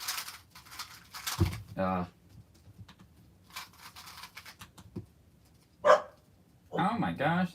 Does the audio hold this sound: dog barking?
yes